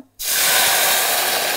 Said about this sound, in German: Kann ich wieder hier ein bisschen hoch mit der Temperatur gehen und mit Weißwein ablöschen